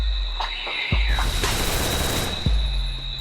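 Gunfire in a shooting video game during a fight inside a house, with a few sharp shot bursts near 1 and 2.5 seconds over a steady game soundscape and high electronic tones.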